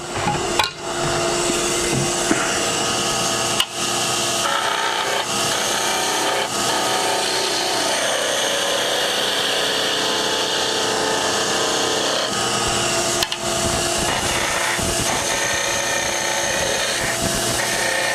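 A skew chisel takes a light cut on a wood spindle turning on a lathe, a loud continuous scraping hiss over the motor's hum, broken by a few sharp ticks and knocks along the way.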